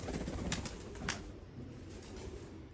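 Black tiger pigeons give low cooing over a steady noisy background, with a couple of brief brushing sounds that may be wings.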